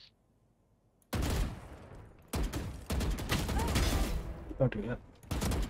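Rapid bursts of gunfire in the tactical shooter Valorant, close and loud, several volleys separated by brief pauses, with a player talking over the shooting.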